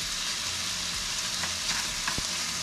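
Chicken stir-fries over high heat in a pan for chicken fried rice, giving a loud, steady, close sizzle with a few light knocks of the utensil and no talking.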